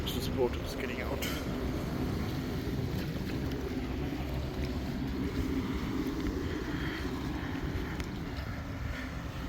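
Steady low rumble of a boat motor on open water near Toronto Island, with wind buffeting the microphone throughout and faint voices underneath.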